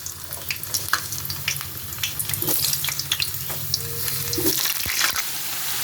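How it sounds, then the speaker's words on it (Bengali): Potatoes fry in hot oil in a wok, a steady close sizzle with occasional stirring scrapes and a low hum of the stove underneath. "তেলটা গরম হয়ে গেছে, প্রথমে আমি আলুগুলো একটু ভেজে নেব।"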